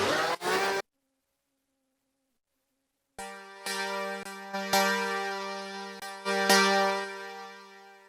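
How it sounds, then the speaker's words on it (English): A plain Diva preset synth chord, sustained and played alone, with sharp stacked harmonics and several clicky re-attacks. A brief note sounds first, then silence, then the chord rings fairly loud and swells toward the end. "Just a very regular chord sound."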